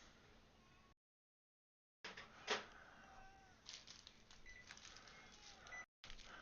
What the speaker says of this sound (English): Not sure if you heard him say meow.